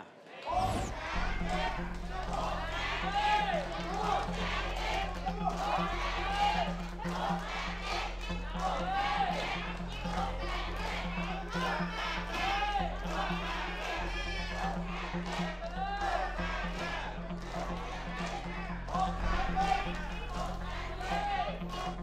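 A studio crowd at a Thai price-guessing game show cheers and chants loudly and continuously, with a host's voice mixed into the roar.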